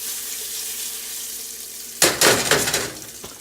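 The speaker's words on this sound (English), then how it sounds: "So we're gonna fry the potatoes in the grease." Potatoes dropped into hot bacon grease at a breakfast-burrito stove, going from a quiet hiss to a sudden loud burst of sizzling and popping that stays strong and crackly.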